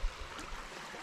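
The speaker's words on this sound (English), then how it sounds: "You also notice here on the river how the water kind of flows in the direction" Water of a river on a Michigan hiking trail rushes around and over rocks, a steady broadband flowing hiss with no voices.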